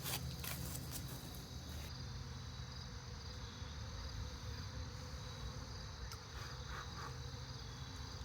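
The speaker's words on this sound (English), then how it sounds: "looks like lots of bees" Dense, steady hum of many honey bees from an open hive, a continuous buzzing drone that stays loud and close throughout with brief higher flicks.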